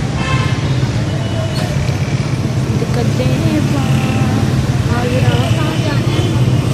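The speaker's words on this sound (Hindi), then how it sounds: "ट्रैफिक का बुरा हाल है।" Busy city road traffic in Rawalpindi, Pakistan, with a steady roar of engines and passing vehicles, occasional horn toots and a voice talking over the continuous din.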